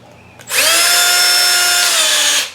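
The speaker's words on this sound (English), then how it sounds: "I actually prefer it in the cordless drill myself." A cordless drill spinning a small sharpening grinding stone for a chainsaw blade, starting abruptly into a loud, steady high-pitched whine that holds for about two seconds before cutting off, heard alone up close.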